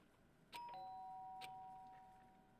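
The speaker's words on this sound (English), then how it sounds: "Did I hear the doorbell?" A doorbell in the Danganronpa video game gives a two-tone electronic chime, struck twice about a second apart, with clear sustained tones that ring out and fade against quiet background.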